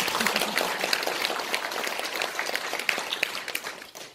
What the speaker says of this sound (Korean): 여러분 큰 박수 한번 보내주세요